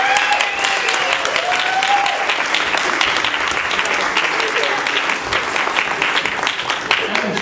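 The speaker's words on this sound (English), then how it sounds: "clap for Evan Chung, everybody" Loud, sustained applause with a few cheers breaks out for a band's music director at a lively book release party, clapping and whoops holding steady throughout without fading.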